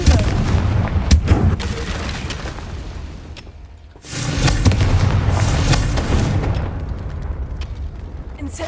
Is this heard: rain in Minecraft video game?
no